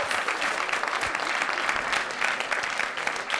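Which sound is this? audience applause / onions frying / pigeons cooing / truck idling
audience applause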